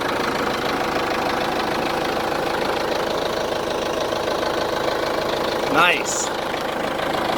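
A Branson tractor's Cummins diesel engine idles steadily with a continuous low knocking rumble, heard nearby while someone talks over it.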